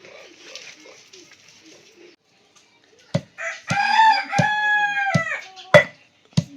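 A rooster crows loudly and clearly, a long harmonic call broken by sharp clicks, following a few seconds of quieter background chatter.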